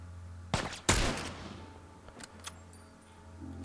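Gunfire in The Last of Us Part II: two close, sharp shots in quick succession with a rattling tail, then fainter clicks and thuds as the echoes die away.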